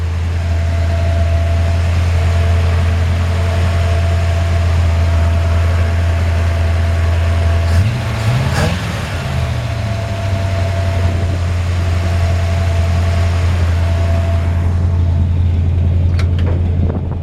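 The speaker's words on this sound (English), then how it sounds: "idle seems a little high, and we could probably adjust that down," A V8 engine in a 1954 Chevrolet 3100 pickup idles steadily and loudly at close range, a constant low rumble with a brief shift in pitch midway; the idle runs slightly high while warming up.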